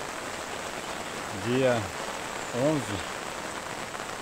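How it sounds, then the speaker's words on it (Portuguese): Heavy rain falls steadily on a rural farm, a constant close hiss of drops, while a voice briefly speaks over it twice. "estamos aqui com um evento com uma bela chuva, muito boa"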